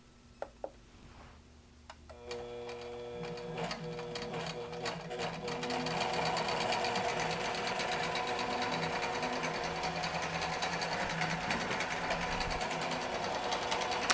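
A QBOT V3 quilting robot drives a sewing machine through an edge-to-edge quilt, starting with a few sharp clicks, then a steady, loud mechanical whir of stitching that builds and holds to the end.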